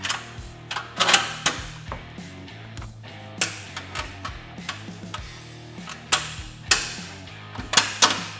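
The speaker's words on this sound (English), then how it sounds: "Gonna go ahead and get our bolts started for the lower A-arm." Bolts being threaded into a Honda Talon 1000X lower A-arm, with irregular light metallic clicks and taps in a close, quiet workshop setting and no speech.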